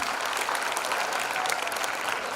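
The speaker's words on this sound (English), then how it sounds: "A loud round of applause, dear audience" An audience gives a school prize-day winner from the Science stream a round of applause, a dense, steady roar of many hands clapping at full strength throughout.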